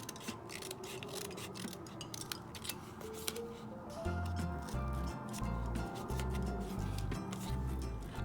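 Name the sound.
scissors cutting end pieces off paper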